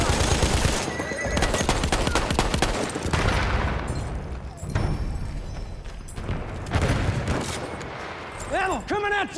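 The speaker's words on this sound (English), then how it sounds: "Can see an enemy horse!" A horse whinnies in a Ballroom Blitz video game battle, a short, high, wavering neigh near the end. Before it come heavy bursts of machine gun fire and distant shots.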